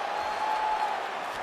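A crowd at a UFC women's fight cheers and applauds in a steady roar as a fighter reverses position, with a faint tone running through it.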